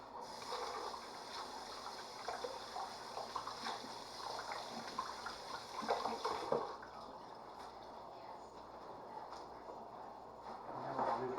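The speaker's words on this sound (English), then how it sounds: "let me rinse my hands off." Tap water runs steadily over hands being rinsed in a home kitchen, a continuous splashing gush that shifts as the hands move and then eases to a softer trickle.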